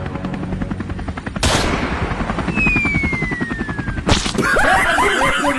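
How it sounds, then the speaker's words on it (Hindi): Bursts of rapid gunfire rattle over a helicopter's rotor chop, aimed at the aircraft, with sharp cracks breaking through the steady thudding and a short laugh near the end. "मार गोली हेलीकॉप्टर में।"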